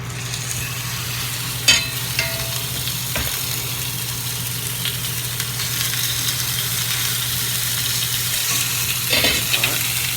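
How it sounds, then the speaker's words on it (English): Tri-tip steak sizzling in a hot pan coated with olive oil, a loud, steady frying hiss held throughout, with a low constant hum underneath and a few scattered knocks and scrapes. "it's really hot already, so I'm going to drop the meat in right away"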